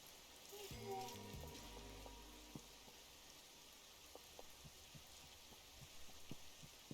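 In the game Schedule 1, faint rain hisses steadily in the background, with a louder low rumble and a few muffled thuds near the start, then a quiet, even drizzle texture.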